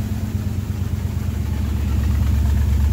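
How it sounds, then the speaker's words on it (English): A 1978 Jeep J10/J20 truck engine idles steadily before its first test drive after a rebuild, a loud, close, low rumbling drone with an even pulsing throb that swells slightly toward the end. "I'll give this thing my first test drive"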